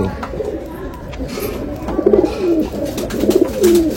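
Rampuri pigeons coo up close, with several throaty rolling coos coming in quick succession over a low background rustle.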